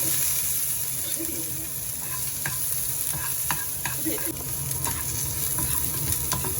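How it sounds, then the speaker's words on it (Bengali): Chopped onion with dried red chilli frying in oil on a gas stove, a steady broad sizzle running throughout with scattered sharp stirring clicks and scrapes of a spoon against the pan, close and fairly loud with no talking. "পেঁয়াজটা ভাজা হয়ে গেছে।"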